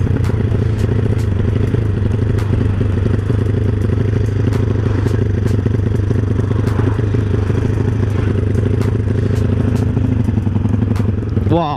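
A motorcycle ridden fast, its engine droning in a steady loud hum with clattering and rattling ticks throughout and no talk.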